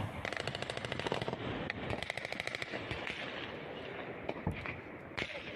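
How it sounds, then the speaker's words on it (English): Sustained automatic gunfire rattles in rapid bursts during an armed conflict on the Pakistan–Afghanistan border, with heavier recoilless rifle blasts booming far away. The fire is distant and continuous, with no voices. "We hear significant fire and also explosions of recoilless rifles off in the distance."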